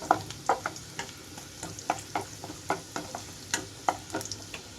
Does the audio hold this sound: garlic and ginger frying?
yes